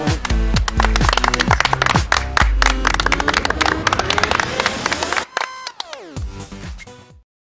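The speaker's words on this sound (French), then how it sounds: "Et Nicolas, on s'applaudit parce que nous avons." A group clapping together in a classroom setting, dense irregular claps for about five seconds, then a pause and a shorter, thinner burst of claps before fading out.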